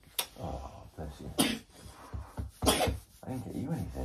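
A sneeze bursts out close by in a home setting, amid other sharp vocal sounds, breaths and quiet talk from a couple.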